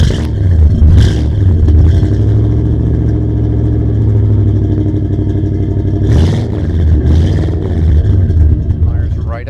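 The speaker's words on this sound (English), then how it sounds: "We're going to give it a cold start here." A 1967 Pontiac GTO V8 cold-starting and settling into a loud, lumpy idle with rough clattering, punctuated by a couple of sharp blips, close up with a voice talking over it.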